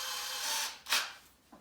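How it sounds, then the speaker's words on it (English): Power drill with a bit widening a hole in a wall for a molly anchor, a short close whirring buzz that rises, cuts off, then bursts once more briefly. "we're going to drill it slightly bigger"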